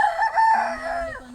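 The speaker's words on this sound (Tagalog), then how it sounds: "Mga tumitilaok na oh." A rooster crows close by on a farm in Bulacan, one long rising and falling call lasting over a second, with no talking.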